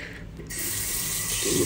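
A tap turns on at a sink for handwashing in a staycation room, and steady running water hisses loudly and close after a brief quiet start.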